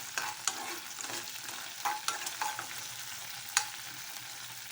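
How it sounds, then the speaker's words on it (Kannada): Stirring mushroom 65 sauce with a splash of vinegar in a hot pan, with a steady background sizzle and several sharp scraping clinks of the spoon against the pan, no talking. "ಹಾಕಿ ಚೆನ್ನಾಗಿ ಮಿಕ್ಸ್ ಮಾಡ್ಕೋಬೇಕು"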